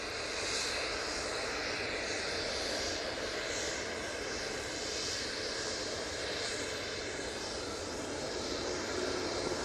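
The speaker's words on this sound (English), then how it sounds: "Oh, it's a TUI Dreamliner." A TUI Boeing Dreamliner airliner at Manchester Airport roars steadily and loudly throughout, a broad, sustained jet engine rumble with no voices over it.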